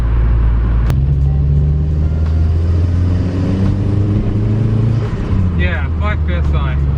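A turbocharged Volvo 340 with a manual boost controller set to 5 psi drives on the road, its engine a loud, steady close-up drone with a brief voice near the end.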